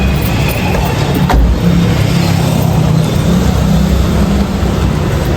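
An inDrive ride-hailing car driving through Kathmandu, a steady close engine and road rumble heard from inside with a brief bump partway through.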